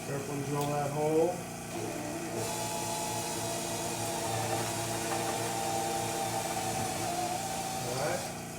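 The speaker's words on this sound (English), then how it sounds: "Carefully drill that hole." A power drill boring a hole in wood for a bridge whirs steadily for several seconds at a constant pitch, close by, after a brief spoken remark at the start.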